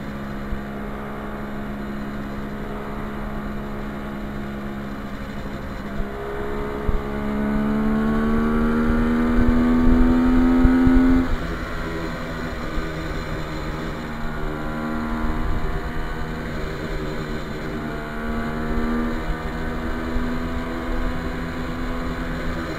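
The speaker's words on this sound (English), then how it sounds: "I don't want to talk over the engine running" A restored 1973 Kawasaki H1 two-stroke triple motorcycle runs steadily with a buzzy, harmonic engine note that swells and rises in pitch midway as it revs, then settles back to a rough idle, loud and close with no talking.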